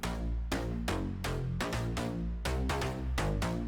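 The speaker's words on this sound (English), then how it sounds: "The basses used in the drop come from 3 different Serum presets, and together they sound like this without the sidechain." Three layered Serum synth basses play a dense, loud drop pattern without sidechain pumping, cutting through in rhythmic chopped hits with heavy low end and no voices.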